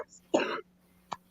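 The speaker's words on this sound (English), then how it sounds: "I still have a cough" A single sharp cough, followed moments later by a brief throat-clearing sound, close and fairly loud in a quiet room.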